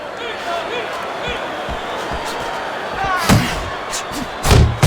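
Punches landing in the boxing video game Fight Night Champion, Andre Ward versus Bernard Hopkins: a few heavy thuds near the end, including a quick double impact, under continuous commentary and crowd noise.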